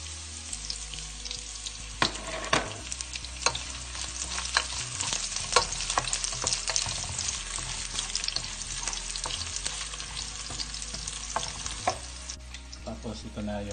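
Onion and pork sizzle and fry in a pan for a pork menudo, with steady loud crackling and repeated stirring scrapes throughout, close up and with no talking.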